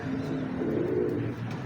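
A prized show pigeon coos up close, a low, throaty, continuous murmur lasting the short moment without pause or talking.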